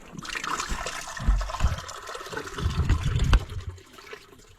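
Water pours and splashes into a pig's container nearby, rising and falling in bursts with trickling between, no voices.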